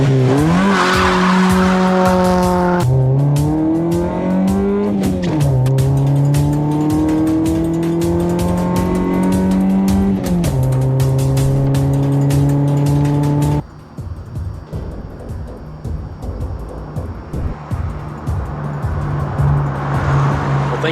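Honda car driven hard, its engine revving high with rising and falling pitch as the tires squeal in long skids, loud and close; the engine note drops away near the end, leaving rougher road and tire noise.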